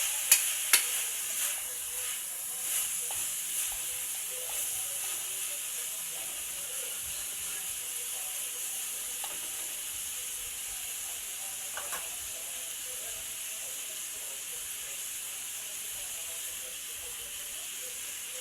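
Leftover fried catfish being stirred in a pan, giving a steady quiet hiss and sizzle with faint scraping, a few sharper clinks near the start, no talking.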